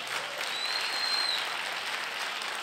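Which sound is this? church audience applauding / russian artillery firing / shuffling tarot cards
church audience applauding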